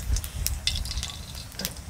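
White cumin seeds fry in hot oil with a close, crackling sizzle, and a few quick spatula stirs clatter over it in a short burst.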